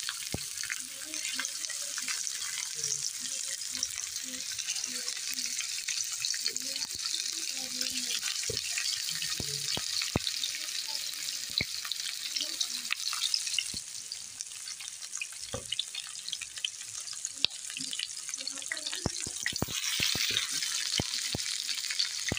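Hand-shaped chapli kebabs of minced meat fry in a pan with a continuous bright sizzle, broken by scattered pops and crackles and a few soft knocks throughout.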